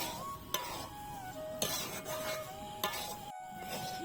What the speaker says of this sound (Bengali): এবার এই ভেজে রাখা সুজিটা এর মধ্যে দিয়ে দেব, দিয়ে ভালো করে আবার ভেজে নেব